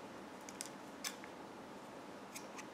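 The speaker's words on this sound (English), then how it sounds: "Cut the previous colored yarn." Scissors snip through crochet yarn, giving a few faint, brief clicks spread across a quiet stretch with no other sound.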